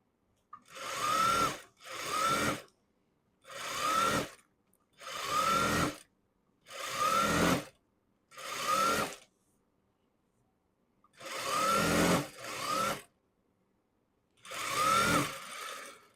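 A sewing machine stitches a seam on an elastic-waist stretch straight skirt in eight short bursts of rapid whirring, with pauses between runs, close and clear.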